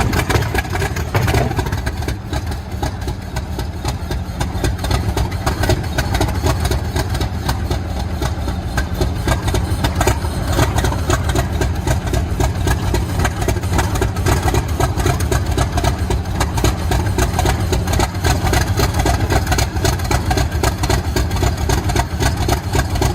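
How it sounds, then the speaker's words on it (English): A British Rail Class 50 English Electric diesel locomotive, 50021, running at a steady idle after startup, a loud continuous low rumble with an even throb that holds unchanged throughout. "this is Locomotive 50021's first startup, a true sound of English electric engineering coming back to life"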